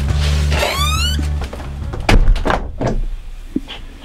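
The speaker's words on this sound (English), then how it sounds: "Okay, I'm gonna shut the door now." A door is pushed shut with a solid thunk partway through, followed by a few softer knocks and handling sounds nearby, after a brief creaking squeal at the start.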